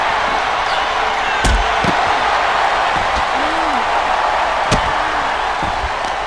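Wrestling ring impacts during a women's match: a couple of sharp, loud slams as a wrestler takes a drop kick and hits the mat, with lighter thuds between, over a steady crowd roar and commentary.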